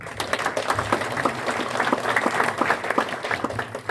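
An audience at a business seminar in Jakarta claps together, a dense burst of applause that stays steady and moderately loud for several seconds, with no talk over it.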